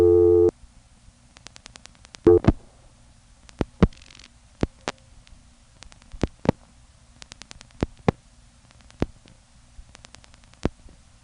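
A 1977 US telephone line gives a busy test signal, a short loud steady tone followed by clicks and sparse pulsed beeps spread irregularly across the line, with no voices.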